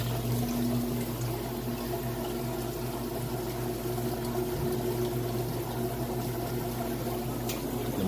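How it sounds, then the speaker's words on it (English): A Whirlpool washer drains water in a steady, continuous rush with a pump hum underneath, holding an even loudness throughout with no talking. "You can hear the drain works good."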